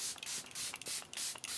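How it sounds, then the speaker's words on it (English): Makeup setting spray misted onto a face in several short, soft hissing bursts with brief pauses between, close and fairly quiet with no talking. "let's do a little setting spray"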